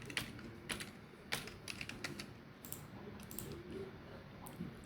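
Typing on a computer keyboard while writing code, irregular soft key clicks in quick clusters with brief pauses, faint and close, with no speech.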